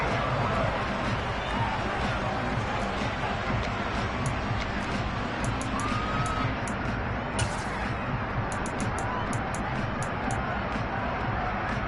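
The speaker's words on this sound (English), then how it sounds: "Plenty of shouts from this crowd as they watch the replay" Dense roar of a stadium crowd at a Seattle Seahawks NFL game, steady shouting and cheering that fills the whole space, with scattered louder calls rising above the constant babble.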